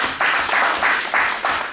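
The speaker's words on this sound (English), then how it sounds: "Give them a round of applause" A small group of people at a live lecture clap in short repeated bursts, roughly five rhythmic waves of applause close by with no talking.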